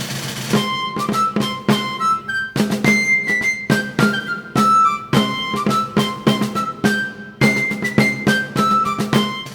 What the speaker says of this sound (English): it's a sting. It's a short piece of music.